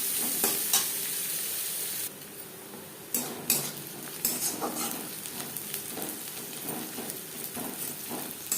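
Chopped onions frying in a pan for a potato chicken curry give a steady sizzle, broken by scraping stirs and light clinks of a utensil against the pot, close by with no talk.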